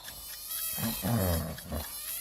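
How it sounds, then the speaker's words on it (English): A mosquito buzzes in a short, thin, wavering drone, close and fairly steady, heard alone without talk. "Now you can hear a mosquito buzzing."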